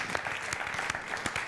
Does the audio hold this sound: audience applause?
yes